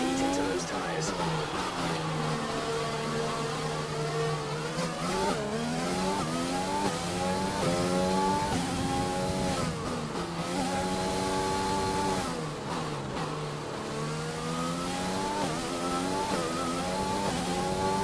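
A racing car engine in a racing video game revs and accelerates through repeated gear changes, rising and falling whine sweeping up and down, loud and continuous, with a voice speaking over it.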